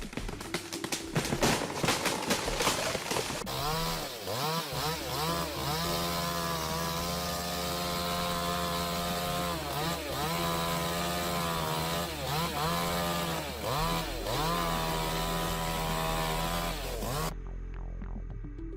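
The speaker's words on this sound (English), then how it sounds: "The sound of a chainsaw is always a mix of gentleness and power." Chainsaw cutting a tree outdoors, a loud steady engine whine that rises and dips as the blade bites into wood, preceded by sharp revving and sputtering bursts, running continuously until cutting out abruptly.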